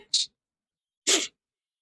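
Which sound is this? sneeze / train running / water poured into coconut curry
sneeze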